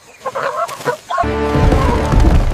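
A loud chicken squawks and clucks continuously near the listener, following a few softer clucks and rustles.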